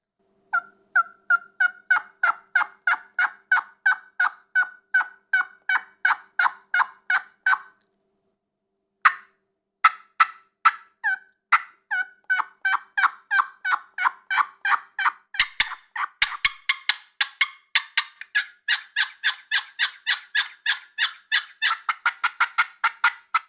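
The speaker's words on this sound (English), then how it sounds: "It just makes him shock gobble and be able to draw that gobble out of him." Wild turkey calls ring out in long, rapid runs of loud, evenly spaced yelping notes, pausing briefly before resuming and growing more frantic toward the end, with no voices present.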